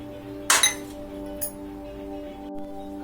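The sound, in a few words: spoon clinking while mixing milk powder and flour in container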